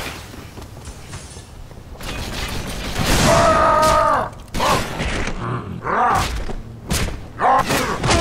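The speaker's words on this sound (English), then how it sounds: "Swapping mags!" Magazine swap in Halo 3: ODST: a sequence of mechanical clicks, ratcheting slides and dull thuds, close and loud, mixed with bursts of combat noise and no talk.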